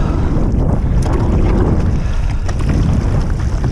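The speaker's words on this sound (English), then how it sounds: "The wind's coming out of the Waikai side." Strong wind at the shore buffets the microphone with loud, steady low rumbling and roar throughout, with no voices.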